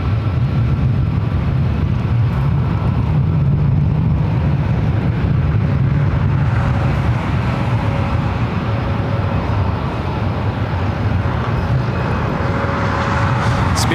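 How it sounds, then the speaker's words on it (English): A Delta Airlines Airbus A321neo arriving at Los Angeles International Airport gives off a continuous, loud, broadband jet roar throughout, heard from fairly close with no speech. "Next arrival is Delta Airlines Flight 687, coming in from Atlanta, Georgia. It's an A321neo."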